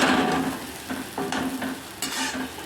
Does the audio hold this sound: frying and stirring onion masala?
yes